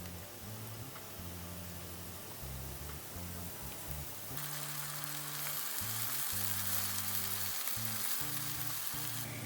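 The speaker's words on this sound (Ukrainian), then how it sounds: "тут моя засмажка майже готова" A vegetable sauté frying in a pan sizzles continuously and close, growing a little louder partway through, with no talk over the hiss.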